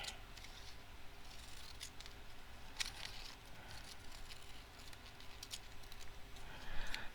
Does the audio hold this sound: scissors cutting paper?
yes